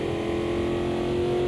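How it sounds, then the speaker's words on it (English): Racing car in a driving video game on auto drive during qualifying, its engine a loud, steady mid-pitched drone held close and alone for a short stretch. "Car's pretty loud."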